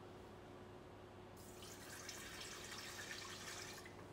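Water is poured into a bowl holding yeast, salt and sugar for bagel dough, a steady faint splashing stream lasting a couple of seconds after a quiet start.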